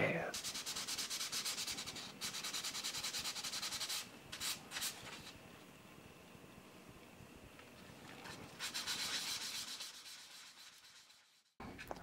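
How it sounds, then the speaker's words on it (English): Rhythmic abrasive rubbing of sanding pads, close and continuous with brief pauses, fading out near the end. "another thing that you can use instead of sandpaper is you can get hold of some sanding pads"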